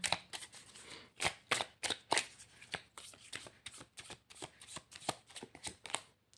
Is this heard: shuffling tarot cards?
yes